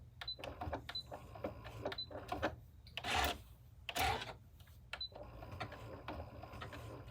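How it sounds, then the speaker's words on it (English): A sewing machine doing buttonhole stitch applique, with short bursts of motor-driven stitching and clicks as the fabric is pivoted, two louder runs in the middle, all fairly close. "I'm sure you guys can tell when I'm using the motor, like the motor of the machine's doing it now."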